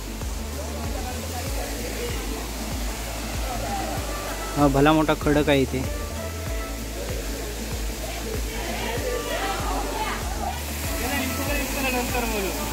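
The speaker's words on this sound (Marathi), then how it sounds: "हा धबधबा तेवढासा चांगला नाही आहे." A waterfall at Chander roars as a steady, broad rushing wash of water throughout, with someone talking over it and some brief clattering sounds midway.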